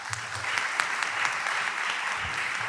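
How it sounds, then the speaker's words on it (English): Audience at a business panel event applauding a panelist, a steady even wash of hand clapping from a modest crowd, moderately distant, with no speech over it. "Wesley King, if you'll give him a good hand clap."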